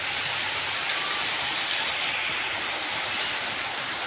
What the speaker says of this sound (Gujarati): જુઓ વરસાદ કેવો પડે છે જુઓ